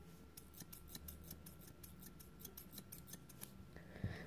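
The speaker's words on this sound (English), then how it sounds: "I tend to stick to like the quieter scissors" Quiet grooming scissors snip rapidly at close range around a dog's face, a brisk run of about a dozen crisp metallic clicks in a steady rhythm over a faint room hum.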